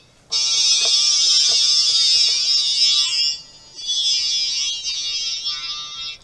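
Guitar played through a talkbox, producing a harsh buzzing, vowel-shaped tone that holds for a few seconds, dips briefly, then returns with a shifting mouth-filtered quality, loud and without speech.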